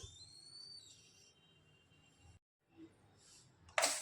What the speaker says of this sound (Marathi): कुकरचं झाकण लावून घेते आणि आपण याच्या 5-6 शिट्ट्या करून घेणार आहोत